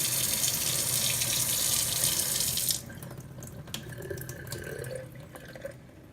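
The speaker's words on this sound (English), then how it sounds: "we're just going to dump the water out" Water draining out of a glass sprouting jar of broccoli seeds: a steady, close splashing pour for a few seconds, then it thins to trickles and scattered drips.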